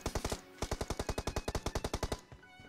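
Rapid automatic gunfire in the mobile shooter Battleground Mobile India, in a team deathmatch: a short burst, a brief pause, then a longer rattling string of loud, close shots that stops abruptly.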